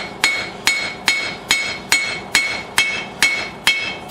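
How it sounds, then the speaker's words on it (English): Steady dog-faced hammer blows on a hot steel railroad spike, about ten sharp ringing strikes at an even rhythm, close and loud with no talking. "I'm switching back to my dog-faced hammer"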